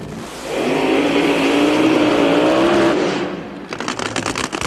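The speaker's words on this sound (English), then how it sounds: "Coming to life, Shirley Muldowney's engine." A 1982 NHRA aluminum drag racing engine fires up and runs with a loud, rough roar that swells and holds, then drops into a choppy, pulsing idle near the end.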